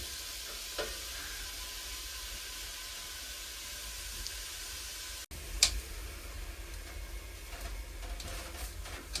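Hamburger meat browns in a pan on a woodstove, a steady close sizzle and fry with a few faint ticks and one brief sharp clack partway through, and no voices.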